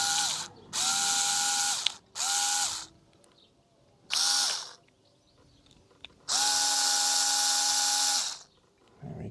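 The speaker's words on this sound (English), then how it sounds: "As the screws are a little bit tight in the plastic, I'm going to run it through with my power tool." A power drill-driver runs in repeated bursts, whirring up and winding down four times with pauses between, driving tight screws into a plastic hatch catch on a Rapido 9090F motorhome; close and loud, the last run longest.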